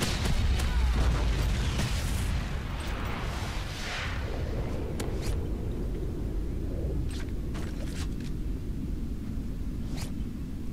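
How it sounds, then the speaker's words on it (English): A MOAB killstreak bomb detonating in a first-person shooter video game, a loud booming blast with a long rumbling roll-off, followed by scattered sharp crackles and pops. "Ah, the sweet sound of a great Moab."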